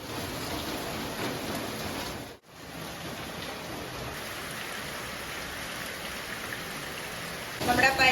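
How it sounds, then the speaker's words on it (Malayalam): Steady heavy rain hisses continuously, dense and even, with a brief dropout partway through. "പുറത്ത് നല്ല മഴയാണ്"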